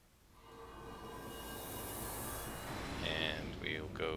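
A train in the video game City of Heroes rumbles steadily as it builds and rolls on, with bright horn-like tones sounding in short bursts near the end.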